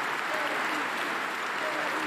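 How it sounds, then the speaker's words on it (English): Sustained applause from a full house at the Smith Center during a college basketball game, a dense, even roar of clapping that holds steady throughout with no talk over it. "the applause from this full house at Smith Center for him"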